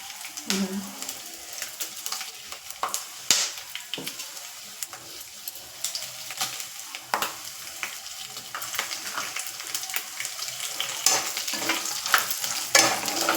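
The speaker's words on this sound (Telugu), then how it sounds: "ఎండుమిరపకాయలు పల్లీలు బాగా వేగాలండి" Steady sizzling from dry chillies and peanuts frying in a pan, with frequent sharp ticks and scrapes of stirring, close and fairly loud throughout.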